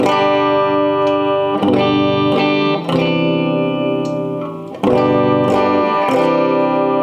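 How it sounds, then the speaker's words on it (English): Loud, sustained distorted electric guitar chords ring out, each strum fading slowly before the next, with a thick buzzing overdriven tone. "you can run through some distortion as well"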